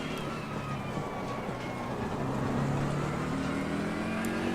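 A pair of McLaren race cars in a racing video game drive past, their engines droning steadily with rising, shifting tones and building slightly louder toward the end, with no talking.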